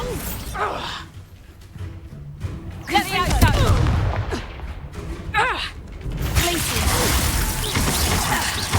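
Spell-combat effects from the Hogwarts Legacy video game, including a Bombarda blast spell: whooshing magical bursts and impacts mixed with game voices and exertion sounds, fairly loud and continuous.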